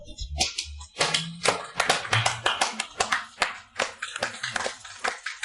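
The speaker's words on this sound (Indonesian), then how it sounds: "Mari kita berikan tepuk tangan yang meriah." An audience claps after a speech, with scattered, uneven bursts of clapping and some voices mixed in.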